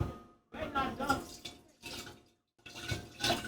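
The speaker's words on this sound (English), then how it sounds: "I'm going to use my powers of pouring and hopefully not spill too much." Cooled moonshine mixture poured in a home kitchen, coming in several separate splashing pours with short pauses between them, close and moderately loud, with no talking during the pours.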